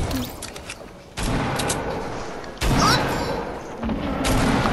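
Sniper gunfire in a video game: three heavy, sharp shots spaced about a second and a half apart, each with a short booming tail, and no talking.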